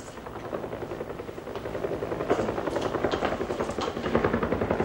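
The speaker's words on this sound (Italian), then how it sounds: "L'elicottero." A helicopter's rotor chops loud and steady throughout, its rapid thudding beat close by and growing slightly stronger toward the end, with no voices over it.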